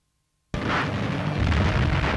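Wartime artillery fire: after half a second of silence, a sudden heavy explosion bursts in and rolls on as a loud, sustained roaring boom with crackling debris, without any voices.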